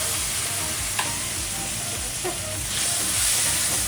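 Ground tomato paste fries in a hot pan with a loud, continuous sizzle and hiss, broken by a few soft stirring knocks.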